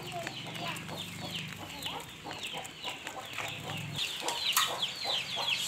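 Chickens on a village farm where free-range native hens and a rooster are kept, clucking steadily with a low continuous murmur of fowl calls, fairly close and loud, with no talking.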